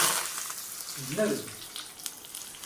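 Fenugreek seeds fry in hot oil, giving a steady close sizzle and hiss throughout, with a brief voice speaking over it near the start.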